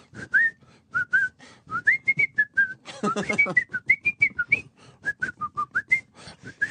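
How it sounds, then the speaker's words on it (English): Someone whistles a wandering tune in short melodic phrases, close and clear, with brief pauses and a few breathy bursts in between. "Maybe sing this song, whistle this song."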